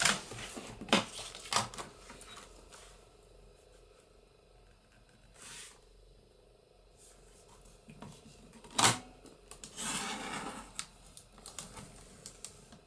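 Paper being trimmed for a junk journal produces scattered crisp snips and rustles, several sharp short clicks with quiet gaps between them, faint and close.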